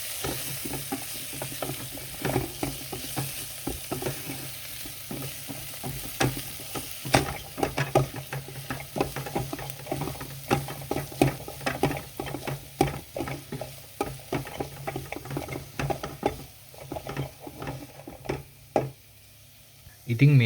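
Spices for a Sri Lankan lentil curry crackle in hot oil in a pan, a fairly quiet sizzle with many quick spoon scrapes and taps while being stirred.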